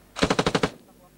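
Machine-gun fire during combat at an Armenian post in Karabakh: six sharp, evenly spaced shots in quick succession, fairly close and loud, then fading into quiet background.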